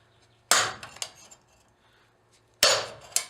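Two sharp, bright metallic clanks ring out as a hammer strikes a chisel on metal sheet for fold forming a leaf, each followed by a lighter rebound tap, close and clear in a quiet room.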